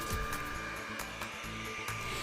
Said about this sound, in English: I'm just using the blow dryer to spread this paint out a little bit more